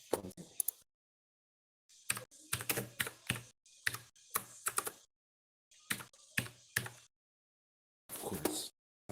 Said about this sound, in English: Of course. Typing.